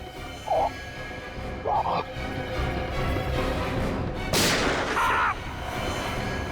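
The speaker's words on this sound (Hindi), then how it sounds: "सर गोली चली है" A single sharp gunshot-like blast rings out amid a noisy scene, with a few short dog barks before and after it.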